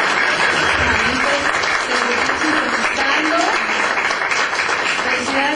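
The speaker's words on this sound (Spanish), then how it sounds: "Por favor, mándenos un aplauso." A crowd at a Juventud Mariana community gathering applauds steadily, a close, continuous wash of clapping with voices mixed in underneath.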